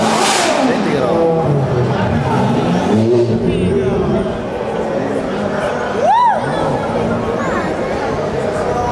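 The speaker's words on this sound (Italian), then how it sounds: "Questo è il 599, quello che sta sentendo." A Ferrari 599 at the Mille Miglia vintage road event in Cremona revs and passes amid a crowd, its engine note rising and falling loudly under steady chatter from onlookers.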